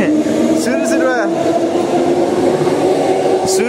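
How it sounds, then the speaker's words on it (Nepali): A train rumbles steadily with a continuous low drone and faint squealing, while people talk over the noise. "गयो ट्रेन"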